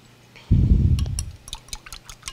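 Water poured onto cornstarch to make a slurry for orange pudding, a short close glug and splash of liquid followed by a few light drips and clinks, with no talk.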